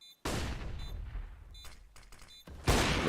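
A frag grenade goes off in a competitive esports shooter match, a sudden loud blast followed by rumbling debris and scattered gunfire, then another heavy burst near the end, with no voices.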